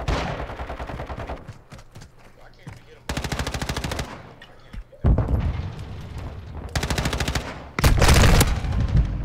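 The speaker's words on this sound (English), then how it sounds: "This nigga got a decoy grenade." A decoy grenade in a video game throwing out bursts of fake automatic gunfire, loud rapid volleys that start and stop in several separate blocks, with players talking between and over them.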